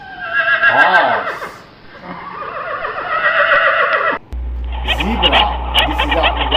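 A horse neighs in a loud, drawn-out whinny with a quavering pitch, then after a brief gap a second shorter whinny follows over a steady low hum, close and clear.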